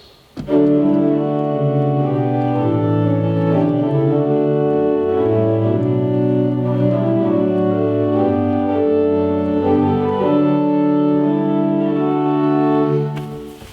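The hymn tune St. Columba, based on an Irish melody, plays slowly on organ, with held chords moving stepwise in a calm, even rhythm.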